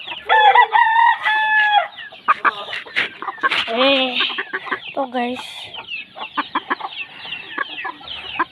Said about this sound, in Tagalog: Ang manok natin.